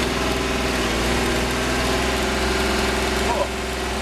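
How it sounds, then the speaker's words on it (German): Magirus truck engine droning loud and steady at full throttle on a climb, with a short break near the end where the unsynchronised gearbox is shifted into third. "Und das wäre jetzt hier unser frühestmöglicher Schaltzeitpunkt bei Vollgas in den dritten Gang."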